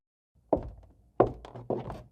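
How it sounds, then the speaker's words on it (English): Three heavy, muffled thumps from an attic overhead land in an irregular rhythm, each with a low boomy body and short decay, close and distinct against silence, as a horror animation sound effect. "I realized that the thumping was a lot louder now"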